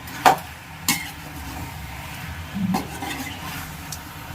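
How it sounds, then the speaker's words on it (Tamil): Chicken pieces are stirred with salt in a cooking pan, with a faint low sizzle and three clear clacks and scrapes of a utensil against the pan, spaced unevenly. "உப்பு போட்டு இப்போ நான் மிக்ஸ் பண்ணிக்கலாம்"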